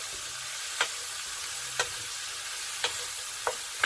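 Pork fillet medallions sizzle in an oiled frying pan with a steady close hiss, broken by a few soft clicks and taps of a utensil moving the meat.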